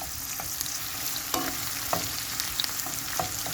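Vegetable oil and butter sizzle in a pan with a constant close hiss, broken by a few small pops and light clicks, and no talking.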